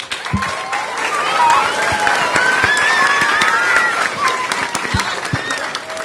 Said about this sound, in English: Can we have a round of applause for all of our readers?